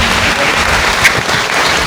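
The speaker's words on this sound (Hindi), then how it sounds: "तालियों के साथ में ब्रदर को बधाइयाँ दे देंगे।" A church congregation at a Chrism Mass applauding, a dense brief burst of steady clapping from the gathered crowd.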